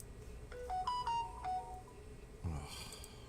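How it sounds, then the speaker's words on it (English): A telephone ringtone plays a short melodic run of bright beeping tones indoors, moderately loud, followed by a brief clatter and a lingering electronic trill. "Can't the phone just stop?"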